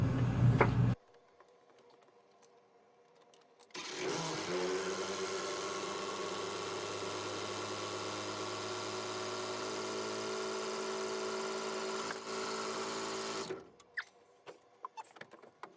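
A yacht's Ford Dover diesel engine drones steadily and loudly for about ten seconds after a short silence, then cuts off abruptly, leaving faint clicks.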